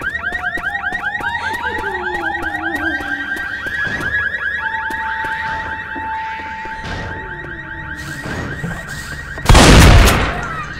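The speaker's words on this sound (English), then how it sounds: "Molotov, that set off the alarm." A video-game car alarm set off by a Molotov cocktail blares loudly in repeating rising and falling whoops, then settles into a steady tone, with a burst of fire or explosion noise near the end.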